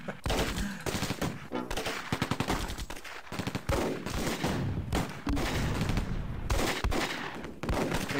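Machine guns rattle in dense, continuous bursts with brief gaps, loud and close, in a Close Combat World War II tactical battle.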